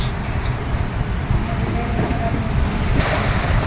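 Sea waves wash along the seaside at Santa Cruz, Davao del Sur, as a steady broadband rush with a swell of surf near the end, mixed with faint traffic and wind.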